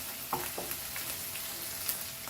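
Beef fried rice ingredients frying over a high flame, a continuous sizzle with a few soft clinks and stirring scrapes, no voices.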